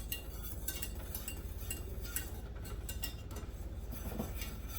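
A spoon clinks and scrapes against a bowl while keto chicken enchilada filling is stirred, faint repeated metallic taps over a steady low background hum.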